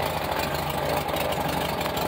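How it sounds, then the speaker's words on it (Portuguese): Air-cooled 1300 engine of a 1973 Volkswagen Fusca idling, a steady close-up rumble with an even, faintly knocking pulse and no voices. "Tá gostoso os barulhos do motor desse carro."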